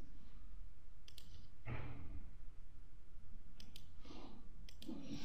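A computer mouse clicks several times, each click short, faint and sharp, with soft background noise between them.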